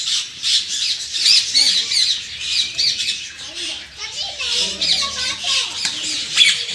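Parrots squawk at a zoo in Salem, Kurumbatti, giving loud, harsh, near cries that repeat almost without pause, with someone speaking faintly beneath them.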